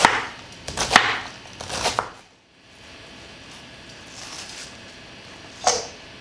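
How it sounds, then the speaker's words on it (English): A knife chops a head of green cabbage for coleslaw on a board, a few quick cutting strokes clustered early, then a pause and a single later chop. "got done chopping up the head of cabbage, of green cabbage I have here"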